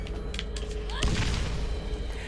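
A grenade explodes in the Borderlands video game, a single sharp boom about midway through followed by a short rumbling decay, set against steady game background noise.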